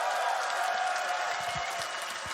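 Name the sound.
crowd applauding at TI 2023 Dota event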